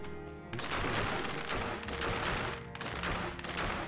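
Rapid bursts of gunfire from the video game Dead Cells, dense and loud, continuing for several seconds with a brief dip partway through and no talk over it.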